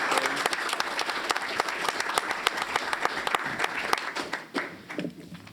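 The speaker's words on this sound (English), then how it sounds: "Let's give one more round of applause for all our national merit stars." Audience applause at a school board of education meeting, a steady round of many hands clapping for several seconds before it thins out and fades near the end.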